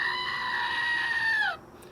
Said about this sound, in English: Screaming Goats.